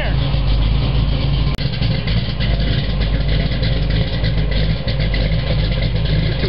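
A 1965 Ford Mustang engine idling as it warms up, a loud, steady rumble with a rough low drone and no clear revving.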